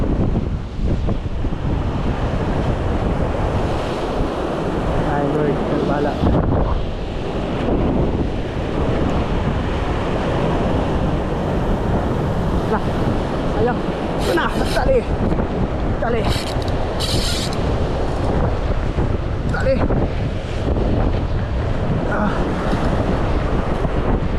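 Ocean waves and strong wind at sea, probably from a boat, roar steadily and loudly throughout with buffeting wind noise on the microphone, while voices talk over the top.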